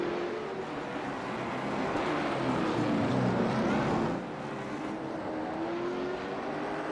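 Amateur stock race cars in an LMS division race at a track, engines droning together at steady, fairly loud volume with a rise and Doppler-like sweep mid-way before settling back into a constant roar.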